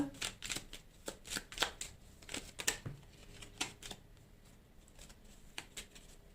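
Tarot cards are shuffled and drawn, making a close series of crisp, rhythmic riffling snaps and flicks with no talking.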